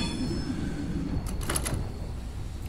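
Train Simulator 2022 train rolls with a constant low rumble, then a few short, sharp high-pitched wheel squeals and creaks cut in briefly near the middle.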